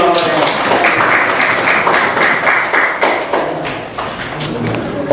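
Students in a classroom clap for a group after its presentation, a loud, busy mix of claps and thumps, with some voices mixed in.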